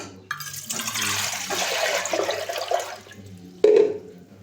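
Water running from a tap into a cooking pot (sufuria) to make tea with milk, a steady close splashing flow lasting a few seconds, stopping briefly, then a short louder gush near the end.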